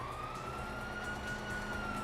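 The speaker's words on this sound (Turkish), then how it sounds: "hear that? Sirens!" Police sirens wail in the GTA 5 video game, a steady rising tone holding through the short span, moderately loud against a dense background of game noise with no talk.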